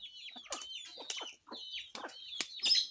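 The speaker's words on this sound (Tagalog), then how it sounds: "Kinakain na ng mga sisiw." Chicks peck at termites from a broken-open termite nest, giving quick high cheeps and soft clucks in uneven bursts, close by with no voices.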